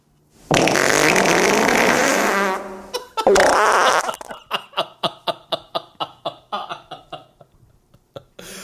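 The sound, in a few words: fart sound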